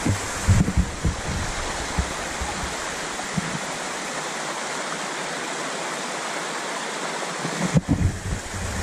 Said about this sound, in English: So this is the actual river you cross here.